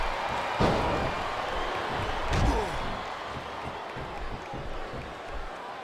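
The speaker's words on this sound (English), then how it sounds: "I love hearing the crowd come alive" Wrestling arena crowd in SmackDown vs. Raw 2007 during a Ric Flair versus Shawn Michaels match, a steady roar of cheering with a couple of sharp slams, mid-distance and fairly loud.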